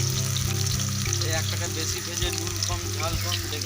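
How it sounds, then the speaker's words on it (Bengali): Pieces of meat pakora fry in hot oil at an outdoor picnic in Jharkhand's Patratu Valley, giving a steady, close sizzle with bubbling crackle and faint background voices. "এখানে ভাজা চলছে।"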